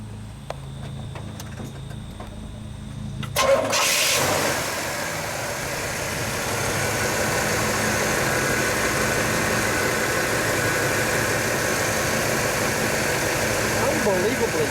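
A 1967 Pontiac GTO hardtop engine cranks and catches a few seconds in with a sharp burst, then settles into a smooth, steady idle rumble, heard close with people talking faintly before the start.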